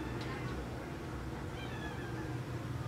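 A cat meows at an animal shelter, the calls faint and brief beneath steady room noise and a person's voice talking nearby.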